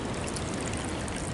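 Water trickling in a spring-fed creek, a continuous close rushing wash with no breaks or voices.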